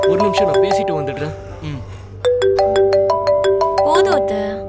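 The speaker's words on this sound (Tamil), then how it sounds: "பிந்து வர ஃபோன் பண்றாளே." A mobile phone rings with an incoming call, a bright repeating melodic ringtone that starts partway through and keeps chiming steadily, preceded by talk and with voices underneath early on.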